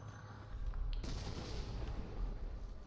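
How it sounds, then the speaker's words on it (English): Grenade blast in the video game Resident Evil 7, a sudden loud boom about a second in, followed by a heavy rumbling roar that lingers to the end. "Throw another grenade!"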